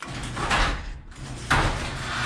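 A garage door opens in a rumbling, scraping slide that swells, dips briefly, then surges again as it rolls along its track, loud and close.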